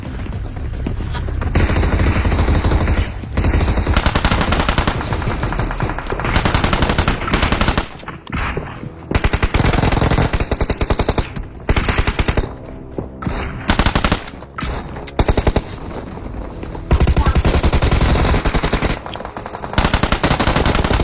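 Gunfire in a BGMI battle royale match, loud bursts of automatic fire repeating in rapid volleys, with brief pauses between bursts, close and dominant throughout.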